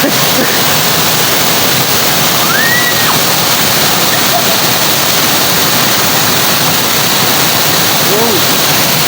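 A newly found waterfall in Mahayhay roars loud and steady from close by, a dense, unbroken rush of falling water with faint voices barely rising above it.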